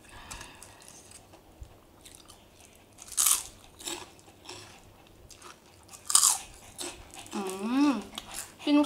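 Thai long bean salad with fresh shrimp is bitten and chewed close up, with several loud, crisp crunches and moist chewing between them, and a voice speaking briefly toward the end.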